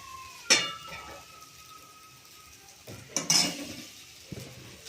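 Pan-cooked fodni rice in a Maharashtrian breakfast dish stirred in a pan, with a few scraping, clinking spatula strokes over a faint background hum and occasional soft sizzle.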